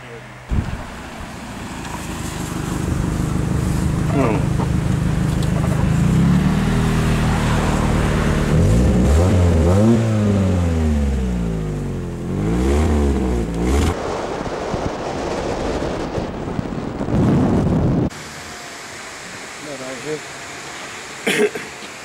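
A motorcycle engine idles and revs repeatedly, pitch rising and falling in waves, loud and close, then cuts off near the end, leaving a few faint knocks.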